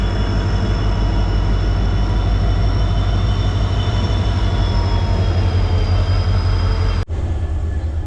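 Express train departing towards Dibrugarh, a loud, steady low rumble of wheels and carriages with faint tonal whine, continuing unbroken until a brief abrupt cut near the end, no voices.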